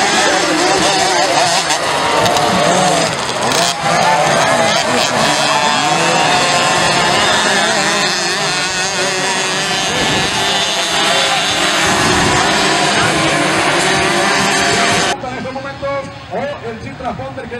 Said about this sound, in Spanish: esta máquina, que ya se viene con todo acelerando a partir de este momento